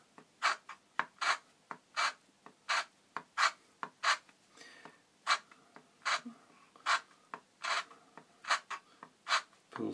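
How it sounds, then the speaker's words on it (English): A hand scraper works a Rulon test piece around its oil grooves, giving about two dozen close, crisp rasping strokes in a steady back-and-forth rhythm with short gaps between them and no talking. "Scraping."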